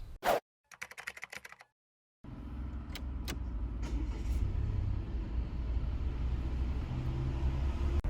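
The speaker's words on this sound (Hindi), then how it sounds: "चलिए अब इसे ड्राइव करते हैं." A Volvo S60 with a 2-litre petrol engine pulls away and drives, steady low engine and road rumble building inside the cabin after a few clicks and taps at the start.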